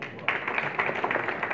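An audience at a Vestige business talk breaks into clapping that starts suddenly and continues as a steady patter at moderate loudness, with a voice talking faintly underneath.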